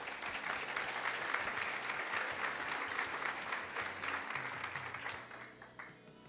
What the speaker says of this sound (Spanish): así que un gran aplauso.